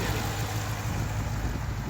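A Dodge Challenger SRT 392 with a 6.4-liter Hemi V8 and six-speed manual idles close by, a steady, loud low rumble with a slight lope that holds throughout, with no voices.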